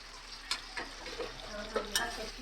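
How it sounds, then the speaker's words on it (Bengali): Onions frying lightly for a prawn do pyaza, heard as a faint low sizzle under gentle stirring, with scattered light taps and scrapes of a utensil in the pan. "এটা পেঁয়াজগুলো একটু হালকা করে ভেজে রেখে দেবো"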